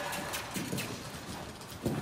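Soft rhythmic hoof clip-clop from a young two-year-old horse loping in an arena under training, moderately distant and steady, with a few louder thuds near the end; no talking.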